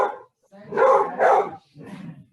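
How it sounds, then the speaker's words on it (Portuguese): A dog barks several times up close, three or four loud, short barks separated by brief pauses. "O cachorro respondeu."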